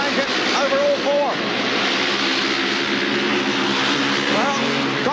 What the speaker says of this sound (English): Speedway racing in the Golf British League at its very best as Stansel tries to lock back on the inside.